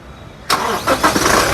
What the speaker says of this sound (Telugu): ఈ కారు సింగిల్ సెల్ఫ్లో స్టార్ట్ అవుతుందా లేదా అన్న చూపిస్తాను